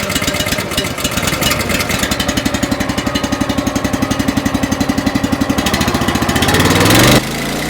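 A Honda engine drives a firewood wood splitter at an outdoor firewood expo, running with a steady, loud, rapid chugging pulse that swells near the end before cutting off, with no talk over it.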